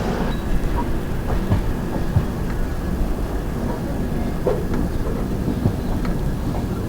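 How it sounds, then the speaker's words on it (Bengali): The Shipra Express leaves Damoh station, heard from inside as a steady loud rumble and rattle of the moving train with occasional knocks and clicks. "আমাদের ট্রেন ডামো থেকে ছাড়লো"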